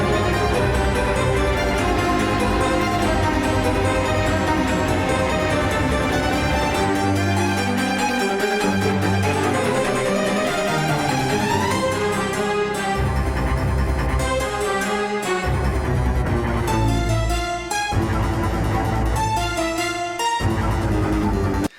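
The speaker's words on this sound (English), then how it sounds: "Listen to that really low harpsichord there." Orchestral soundtrack from Hollow Knight plays loudly and continuously, with a low, plucked harpsichord line among dense strings and swelling accents.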